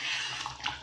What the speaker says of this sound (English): So look, I see it bubbling away.